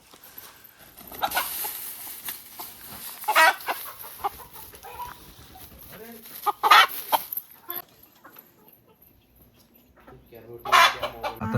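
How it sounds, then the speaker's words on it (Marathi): A rooster on a village farm squawks and clucks in alarm as it is being caught, loud panicked bursts separated by quieter gaps, with faint background sounds in between. "इथे आता सुरेश कोंबड्याला धरतोय म्हणून तो घाबरलेला आहे."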